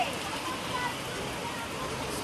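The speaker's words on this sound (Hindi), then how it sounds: "पीछे देखो कितनी ज़्यादा बारिश हो रही है" Heavy, cold rain at a campsite in Dehradun makes a dense, steady hiss that fills the whole moment evenly, without letting up.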